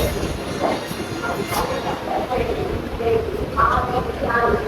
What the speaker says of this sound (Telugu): ఈరోజు మనల్ని పుల్ చేస్తున్న లోకోమోటివ్ వచ్చేసి వ్యాప్ 4 లోకోమోటివ్